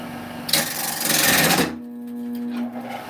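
A woodturning lathe spins a wooden bowl, then a burst of harsh scraping and chatter erupts as a turning tool is jammed in, lasting about a second before the lathe stops and a quieter hum remains.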